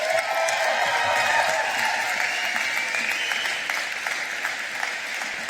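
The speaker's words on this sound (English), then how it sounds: "I want to hear really loud applause from all the graduates" Graduates at a 2016 graduation ceremony give loud, dense applause that holds steady for several seconds, then eases slightly toward the end, with no speech over it.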